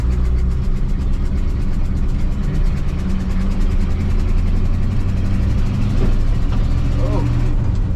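A vehicle engine runs steadily in high gear while driving on a road, a continuous low rumble with road noise throughout, loud and close, with brief voice-like sounds near the end.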